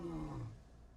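A lion in the Serengeti gives a brief, deep, low roar that fades out within a second, heard alone at a moderate distance.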